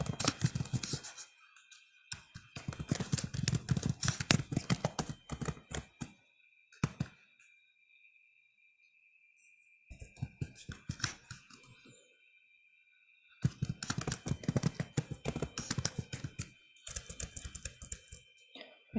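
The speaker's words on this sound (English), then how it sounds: "My typing's not doing so well." Bursts of rapid typing on a computer keyboard during a live educational discussion, clattering keystrokes in several long runs separated by pauses, close and fairly loud.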